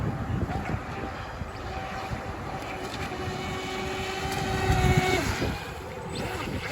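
A UDI-10 brushless RC boat runs at full throttle across outdoor water, its high whining motor buzz steady and fairly close, mixed with wind noise on the microphone.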